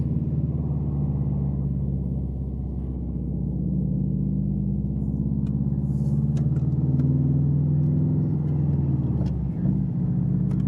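Inside a Subaru STi creeping through traffic with a check engine light on, a steady low engine drone and road rumble hold throughout, with a few light clicks and knocks near the end.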